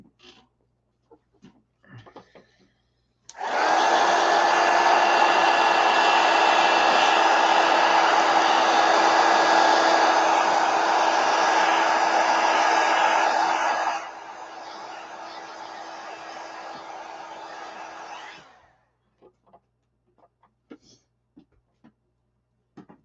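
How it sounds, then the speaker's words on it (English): A heat gun blows with a loud, steady, close roar for about ten seconds, then drops to a lower setting for a few seconds before switching off, with faint handling noises before and after. "Let me hit this with the heat gun."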